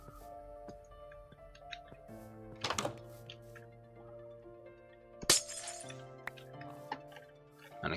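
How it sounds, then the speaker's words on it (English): Chiseled glass shattering in a Minecraft modpack game: two sharp breaking crashes, the second louder, punctuate a quiet stretch of sparse clinks and ticks over sustained background music. "a good thing about chiseling glass is it doesn't break when you break it"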